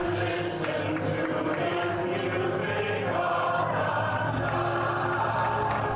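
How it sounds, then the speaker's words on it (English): A Broadway audience at the closing performance of The Phantom of the Opera roars for the cast, a dense, steady wash of crowd noise with cheers and whoops throughout. "A roaring applause for the cast, the crew, that iconic chandelier, and Andrew Lloyd Webber"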